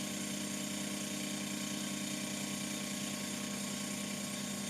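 A TAIG milling machine turns a metal part, giving a steady, continuous mechanical whine and hum with a fine gritty hiss. It runs unbroken at moderate, even loudness throughout, with no voices.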